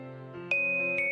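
A bright ding-dong chime marking a new day in the video game My Time at Portia rings twice over soft background music, with each tone sustaining clearly.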